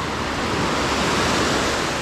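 Strong ocean surf roars continuously and loudly at the shore, a dense wash of crashing water with no pauses.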